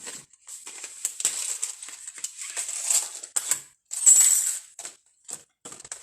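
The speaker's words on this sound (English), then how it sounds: "I should be able to die cut all these all at the same time." A die cutting machine presses card stock through card dies, making close crunching, crinkling and scraping bursts in an uneven sequence with brief quiet gaps between them.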